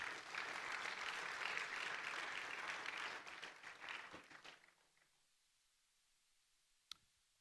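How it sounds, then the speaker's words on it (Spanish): A church congregation claps for the King, brisk dense applause for about four seconds that thins and fades out, leaving near silence broken by a single sharp click. "Puede darle palmas al Rey."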